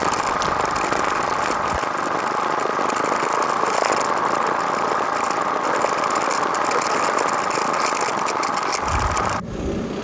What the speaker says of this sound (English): so I took this opportunity to get a ride by on the camera